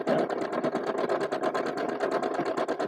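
A sewing machine runs a tack stitch in a rapid, even rhythm of needle strokes, close and fairly loud, for about three seconds with no talking.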